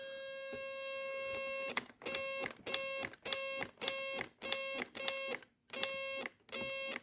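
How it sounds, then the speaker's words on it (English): A burglar alarm sounds nearby, first a steady continuous electronic tone and then a run of regular pulsed beeps in rhythmic bursts, fairly quiet overall with no voices. "a cool little short video on a burglar alarm with the oscilloscope"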